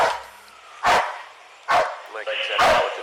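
A dog barks three times in sharp, loud bursts spaced about a second apart, with a short whimpering yip between the barks and no voices over them.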